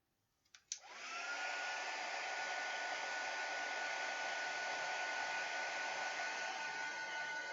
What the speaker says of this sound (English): I'm just going to quickly dry that with a heat gun.